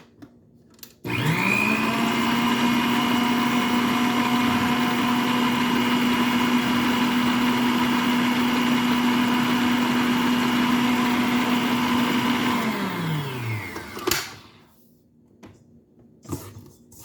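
An electric mixer whirs steadily for about eleven seconds while beating sugar into cookie dough, holding a loud even motor whine before spinning down, followed by a few light clunks.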